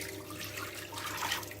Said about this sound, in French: Alors ensuite, je verse la sauce.